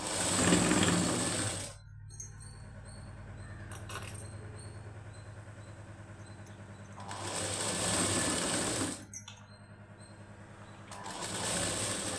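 A sewing machine stitches the high neck of a plain blouse, running in two loud bursts at the start and again after a pause, with quieter mechanical whirring and clicks between runs and no talk.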